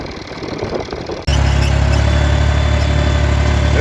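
A farm tractor engine cuts in abruptly after a quieter stretch and then runs loud and steady, a close, even rumbling drone with no speech.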